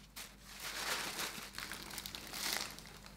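Chanel wrapping paper crinkles and rustles softly and steadily while a luxury handbag is unboxed, close but quiet, with no talking.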